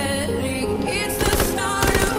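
Gunfire in an H1Z1 squad match, rapid crackling shots that start midway and continue in a dense burst under a steady musical or ambient tone, with no talking.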